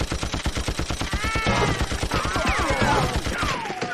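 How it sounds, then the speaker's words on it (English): Machine gun fire from a gun nest in Baldur's Gate 3, a fast, regular stream of loud shots pounding continuously, with whooshing and whining effects swirling over it, no talk. "It's a machine gun nest?"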